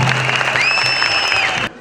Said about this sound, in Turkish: bir alkış rica ediyorum hepimizden